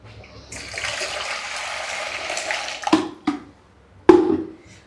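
Water pours from a kettle into a cooking pot in a home kitchen, a steady splashing stream for a few seconds followed by a couple of sharp clanks as the kettle and pot are handled.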